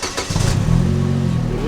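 An Opel car engine, apparently after work on its intake and exhaust, runs steadily at close range with a low, even idle hum that settles after a brief start, mixed with some background noise.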